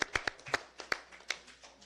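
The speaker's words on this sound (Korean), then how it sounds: "박수로 맞이해 주시기 바랍니다." A small gathering at a party meeting claps to welcome a speaker. A few scattered, faint hand claps land irregularly and sound thin and sparse rather than a full round of applause.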